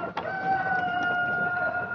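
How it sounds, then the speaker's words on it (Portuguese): A rooster crows on a free-range chicken farm, a sustained tonal call held steadily at moderate loudness for about two seconds with no talk over it. "O canto do galo anuncia o novo dia"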